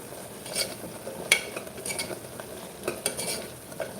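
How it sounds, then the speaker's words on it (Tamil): A spoon stirs tomato rice mixed with mutton masala in a pot, giving soft intermittent scrapes and clinks over a faint low sizzle, quiet and close with no talking. "எல்லாத்தையும் சேர்த்து நல்லா கலந்து வைக்கலாம்"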